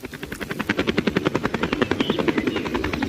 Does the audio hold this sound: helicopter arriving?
yes